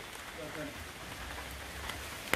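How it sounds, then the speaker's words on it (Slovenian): Steady rain falls over a Borneo rainforest botanical garden, a dense, even hiss of drops with a faint voice underneath. "A čeprav dežuje,"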